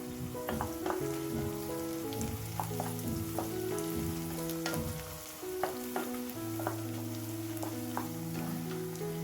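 Sliced onions with curry leaves fry in a pan, giving a soft, continuous sizzle broken by intermittent stirring clicks and scrapes, set against steady background music.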